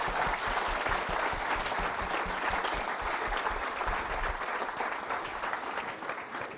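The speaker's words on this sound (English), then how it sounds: "Let's give Tyler a massive round of applause." Steady audience applause fills a tech meetup hall after a talk on converting a site into a single-page application, a dense wash of clapping that holds level throughout and thins slightly near the end.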